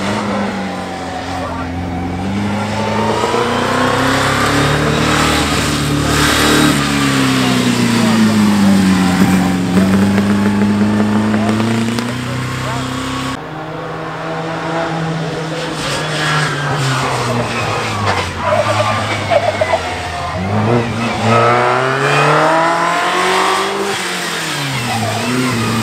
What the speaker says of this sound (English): wheel spin and very sideways, fastest to the speed trap.